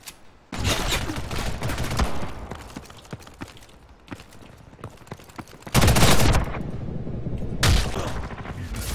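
Rapid bursts of video-game gunfire from sniper rifles and shotguns, loud and close, with dense overlapping shots, quieter stretches between volleys and heavy clusters near the end.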